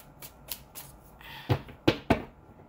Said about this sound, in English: Got a shuffle of these cards.